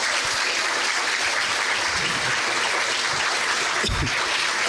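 A congregation gives a round of applause at a Sabbath afternoon praise and worship service held at a church camp. The steady, even clapping runs continuously for about five seconds, with a few low thumps underneath.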